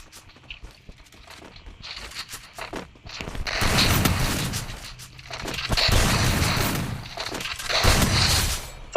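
Gunfire in a multiplayer shooting video game, with repeated loud bursts of shots and impact noise in several waves, mixed with footstep-like game effects and no talking.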